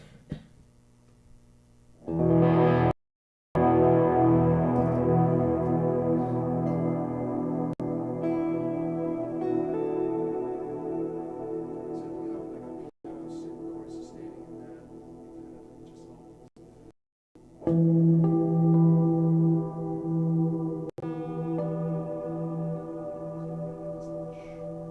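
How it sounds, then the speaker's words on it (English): Large gong or tam-tam struck to give a deep, shimmering wash with a long built-in reverberant ring; several sustained strokes swell and decay slowly, each blooming into rich overtones, with brief silences between them. "or like a large gong or tam tam. It sort of has a built-in reverb sound"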